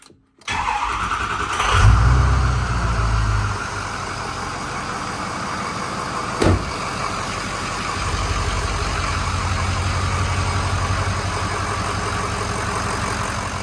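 A truck engine cranks and fires after air has been bled from its fuel system, catches with a brief rev, then settles into a steady, smooth idle heard close up, with a single knock partway through.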